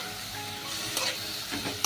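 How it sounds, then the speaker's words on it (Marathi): Onion sautés in hot oil in a pan, giving a steady close sizzle with a couple of faint stirring clicks. "कांदा आपल्याला गुलाबी रंग येईपर्यंत परतून घ्यायचा आहे"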